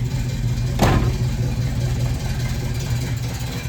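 A 1972 Dodge Challenger with a 340 engine and four-speed idles steadily up close, a low, even rumble with a brief louder burst near the start.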